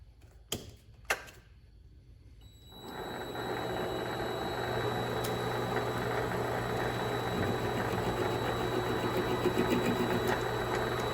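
Vevor mini lathe motor spins up to face off a carriage lock screw, after two sharp clicks a steady whirring hum sets in, joined by light cutting chatter, close and continuous.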